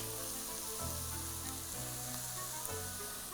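Leeks and the pastry sauce ingredients sizzle steadily in a hot pan, with a constant close frying hiss and a low hum running underneath.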